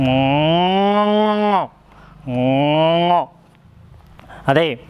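A voice mimics a cow mooing with two long, loud, drawn-out moos separated by a short pause, followed by a brief rising call at the end. Each moo sounds close and resonant and sinks in pitch as it fades.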